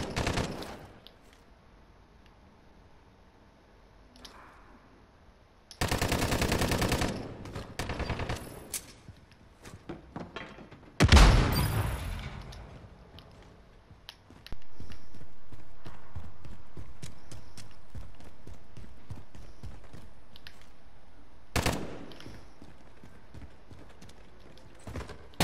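Gunfire in the Call of Duty Modern Warfare video game, heard as several loud, abrupt bursts of shots separated by quieter stretches of in-game ambience, with no talking.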